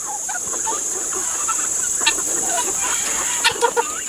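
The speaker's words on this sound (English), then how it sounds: "And the guineas, of course, they're waiting to try to get in there to get some of the food." Chickens and guinea fowl gathered near food on a homestead, giving scattered soft clucks and a few sharper calls over a steady high-pitched insect-like hiss, with no talking.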